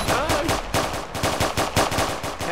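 Rapid automatic gunfire from a gun in the Roblox video game, loud and close, with repeated bursts of shots in a steady stuttering rhythm throughout.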